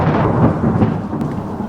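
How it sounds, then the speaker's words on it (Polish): A long, loud rumble of thunder rolls on steadily without a break, deep and broad, with no voices over it. "Jest taki długi grzmot."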